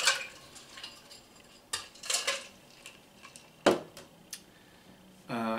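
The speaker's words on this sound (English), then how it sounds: "let me put some ice in this shaker" Ice clattering into a metal cocktail shaker while mixing a Strega cocktail, with sharp scattered clinks and rattles in bursts, close and fairly loud, separated by quiet gaps.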